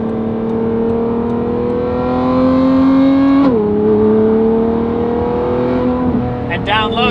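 A Lamborghini Revuelto fitted with a Valvetronic Designs Race exhaust revs with a loud, high-pitched, racing-style wail. The pitch climbs steadily, drops sharply midway, then holds again, with a voice faintly in the background.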